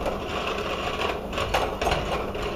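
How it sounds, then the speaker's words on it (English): An electric hand mixer running on high creams butter in a large bowl for Italian shortbread cookie dough, giving a steady, close mechanical whir with a faint rattle of beaters against the bowl. "Then with my mixer, I'm going to start to break up the butter and to start to cream it."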